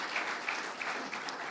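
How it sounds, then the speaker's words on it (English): Applause from the audience at an architecture awards ceremony, clapping for the organisers; a fairly soft, even patter of many hands that continues without pause. "Please clap for them."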